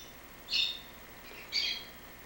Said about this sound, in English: I apologize for the bird in the background.